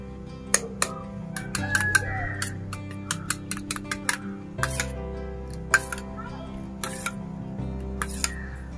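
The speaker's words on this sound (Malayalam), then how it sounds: "ഇതാ മുട്ടയും തൈരും കൂടിയിട്ട് ഒന്ന് മിക്സ് ചെയ്തേ" A spoon clinks repeatedly against a bowl as egg and yogurt are beaten together, a close, irregular series of sharp taps over a low background hum.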